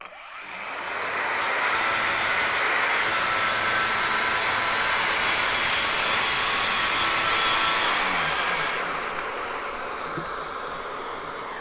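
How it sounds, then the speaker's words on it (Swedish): A vacuum cleaner runs hooked up to a Festool 18V cordless saw during a dust-extraction cutting demo. It sounds as a loud, steady whine with a high hiss that holds for about seven seconds, then drops to a quieter run-down. "Så nu kör vi en demo till då med dammsugare inkopplat, Bluetooth-batteri."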